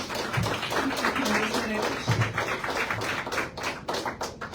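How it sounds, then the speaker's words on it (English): Scattered, fairly faint clapping from a modest audience at a Florida political press event, with a few distinct nearby claps and thumps standing out against room murmur and some talk. "Please give a round of applause."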